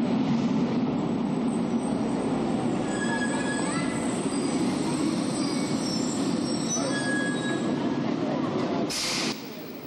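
A Rome subway train runs loudly and continuously, its wheels squealing and grinding on the rails, with a sudden sharp noise near the end.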